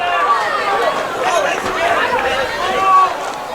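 Crowd at a high school varsity boys' soccer quarterfinal, Portland versus Deering, reacting in a steady murmur of voices that swells briefly near the end, with shouts mixed into the babble.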